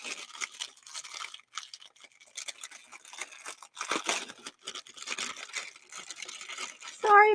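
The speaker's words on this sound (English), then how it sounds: "Sorry about the crinkling noise." A plastic bag of diamond painting drills crinkling and rustling in hand, close and fairly quiet, in irregular crackling bursts with brief pauses between handlings.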